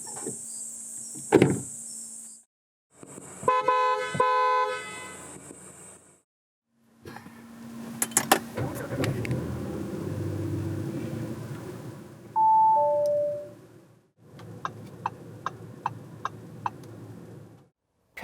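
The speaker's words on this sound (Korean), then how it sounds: "잠시 A5 스포트백이 들려주는 감성 측면의 소리를 들어볼까요?" A 2019 Audi A5 Sportback gives a series of separate car sounds with pauses between: doors shutting with solid thuds, power windows whirring, a low engine rumble and a crisp ticking indicator, all close and clear.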